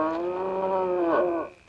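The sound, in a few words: cow mooing, neighbour's cow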